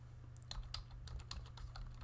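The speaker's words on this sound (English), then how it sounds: "type in OneDrive." Quiet typing on a computer keyboard while a Windows 11 search box is filled in, with a steady run of distinct light key clicks over a low background hum.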